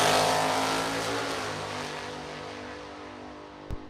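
A supercharged rear-engine dragster roars loud and close at a drag race, the engine note sweeping down as it pulls away down the strip, with a brief sharp burst near the end.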